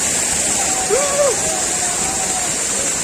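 Bamni Falls, a hill waterfall in Purulia, gives a steady broad rush of falling water throughout, with a brief warbling tonal call rising over it near the middle.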